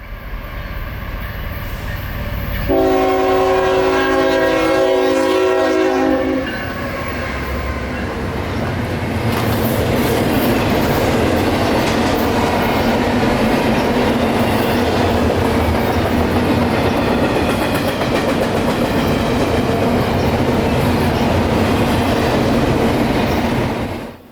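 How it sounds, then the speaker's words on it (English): A huge nightly intermodal stack freight train with distributed power units in Central Florida sounds a horn blast, then rolls past with a loud, continuous rumble and wheel clatter that lasts to the end. "Here comes Q178, a nightly intermodal stack train out of the Winter Haven Intermodal Logistics Center to Jacksonville's Intermodal ramp."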